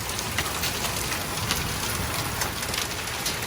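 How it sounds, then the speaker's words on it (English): Hailstones falling steadily on a home vegetable garden in Texas, a dense, even patter of many hard impacts without pause, close and fairly loud throughout, no voices. "Hailstones."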